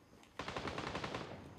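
Distant automatic gunfire from another player in Gray Zone Warfare at Tiger Bay Mall, a rapid burst of evenly spaced shots that starts abruptly and stays fairly faint, with no talk over it.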